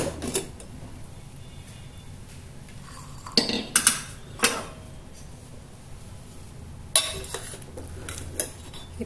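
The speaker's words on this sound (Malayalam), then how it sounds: "ഇനി നമുക്ക് കുക്കർ തുറന്നു നോക്കാം" A pressure cooker being opened after cooking jackfruit curry, with a few sharp metallic clinks and clatters of the lid and pots over a quiet kitchen background.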